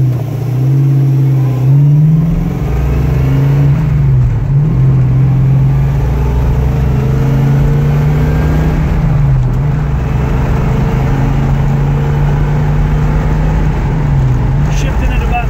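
A 1970 Buick GS with a four-speed manual pulls hard, its steady engine drone climbing in pitch, dipping at a gear change near two seconds and again around nine seconds, then rising once more. The sound is loud and close, with voices faintly underneath.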